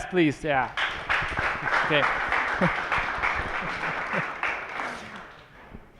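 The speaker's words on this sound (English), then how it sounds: "a warm applause for Jess" An audience applauds a speaker at a startup event, with steady clapping sustained for several seconds beneath brief talk from people nearby.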